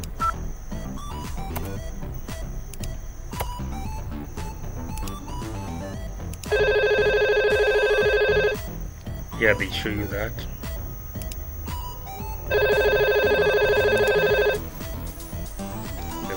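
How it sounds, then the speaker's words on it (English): A VoIP desk phone rings in two long bursts of electronic ringing, loud and close. Someone talks over the background between the rings. "It's ringing."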